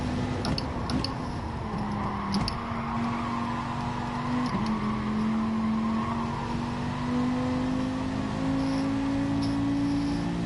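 A race car engine revs hard on a practice track, holding a loud, sustained note with a couple of brief dips and climbs as it clears fuel. The drone is steady and close, and there is no talking.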